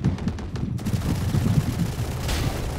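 An Odin machine gun fires in a Valorant-style shooter match, rapid repeated bursts of gunfire thudding heavily and close, with shot rhythm visible at the start before blending into a continuous rumbling barrage.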